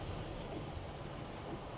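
Stormy sea waves and strong wind during Cyclone Ditwah in Mannar make a dense, steady roar with low rumbling surf and wind buffeting the microphone, with no voices heard.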